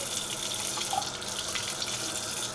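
Cold water running steadily from a kitchen tap into a bowl, a continuous close splashing hiss with no voices over it.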